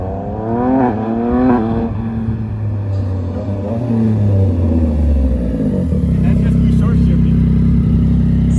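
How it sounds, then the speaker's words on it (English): Tuned R9 motorcycle engine revving loud and close, rising and falling pitch in the first seconds, then settling into a steady, heavy roar. "We got the tuned bike, and she sounds like this."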